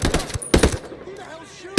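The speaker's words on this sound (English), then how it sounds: "Who the hell's shooting?" Bursts of automatic gunfire in a military shooter video game, two rapid volleys close together and loud, then a quieter stretch with a voice, ending on another sharp shot.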